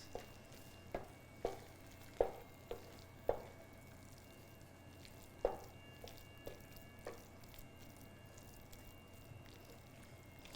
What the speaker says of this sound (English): I'm going to turn off my heat and stir in a little bit more butter